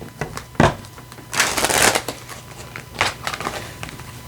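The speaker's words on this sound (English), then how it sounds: "I can't shuffle today, you guys" Tarot cards being shuffled by hand, with several separate bursts of riffling and flicking. Each burst is close and crisp, and there are short quiet pauses between them.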